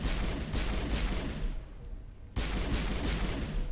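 Sniper fire in a Mass Effect 1 battle: a steady roar of gunfire and distant explosions, dipping briefly before a sharp loud return, with no voices over it.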